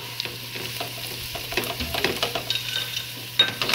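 Garlic sizzles steadily in a hot pan while a utensil stirs and scrapes it, making an even crackling hiss with small clinks, close by and without voices.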